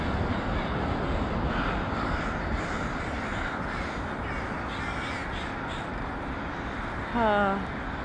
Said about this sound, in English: this is an amazing natural phenomenon and crow roost